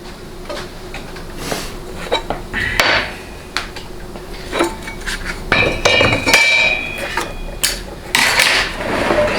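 Billet servo being removed from a 4L60E automatic transmission during teardown, with close metallic clinks, taps and scrapes of tools and parts at an irregular pace, no talking.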